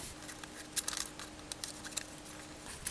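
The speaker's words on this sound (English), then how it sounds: "So I'm just going to cut this out" Scissors snipping paper for a Midori Traveler's Notebook journal page, a quick run of soft crisp cuts close by, with irregular clicks and rustles over a quiet room hum.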